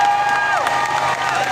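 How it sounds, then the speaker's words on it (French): Crowd at an outdoor gathering on Rue du Faubourg Saint-Antoine in Paris, cheering and applauding in a short, loud burst with shouts and whoops rising over the noise. "Mais applaudissez-vous s'il vous plaît"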